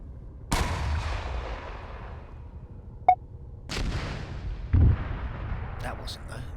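Gunfire in the video game ARMA 3: three sharp, loud shots spaced a few seconds apart, each with a booming, echoing tail that fades over the following seconds, plus a short faint crack between them.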